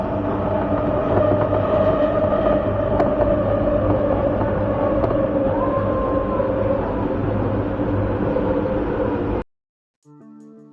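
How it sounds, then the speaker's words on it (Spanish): Continuous rumbling metro train noise on Mexico City Metro Line 12, with a rising metallic squeal and grinding wheels as the train rounds a curve, loud and steady, ending abruptly in near silence. "siempre que pasaba un tren por una curva, siempre se escuchaba este forcejeo"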